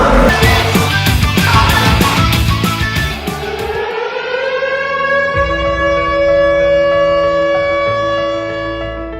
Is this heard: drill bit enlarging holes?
no